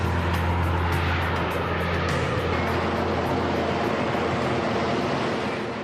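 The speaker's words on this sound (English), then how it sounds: "To help them slow down, the pilots direct the Harrier nozzles forwards." A McDonnell Douglas AV-8B Harrier II jet with its nozzles thrown forward to slow down produces a loud, dense roar that stays sustained and powerful, fading slightly at the end.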